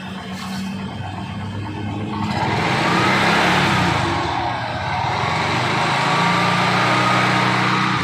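A rebuilt car engine with fresh oil revs up as the accelerator is pressed, rising from a steady idle into a loud, sustained roar that holds near the listener for several seconds.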